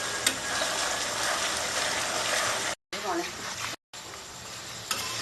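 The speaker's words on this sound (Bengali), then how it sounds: "এটা এখন কুরকুরে করতে গেলে দশ থেকে পনেরো মিনিট ভাজতে হবে" Taro (arbi) pieces deep-frying in oil until crispy, Bengali style, giving a loud, dense, continuous bubbling sizzle close up, with a couple of brief cuts to silence.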